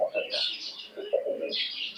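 A teddy pigeon coos close by in soft, rounded calls, with a person speaking over the birdsound.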